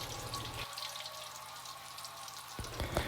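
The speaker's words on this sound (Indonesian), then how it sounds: "untuk gorengan yang kedua ini udah hampir kecoklatan ya, langsung aja aku angkat" Tofu frying in hot oil, browning in a home kitchen, gives a steady soft sizzle and crackle with some watery clatter near the end; no talking.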